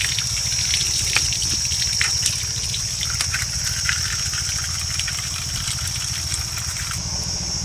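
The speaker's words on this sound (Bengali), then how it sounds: "এই আমগুলোকে আগে ভালো করে জল দিয়ে ধুয়ে নেব" Running water splashes and trickles over mangoes being rinsed for homemade mango leather, a steady wash of noise over a low motor-like hum, close and continuous, with no talk.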